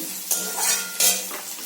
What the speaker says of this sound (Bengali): তারপরে এবার শাক ভাজাটা বসিয়ে দেবো পেঁয়াজ দিয়ে দিয়েছি শাক ভাজার জন্য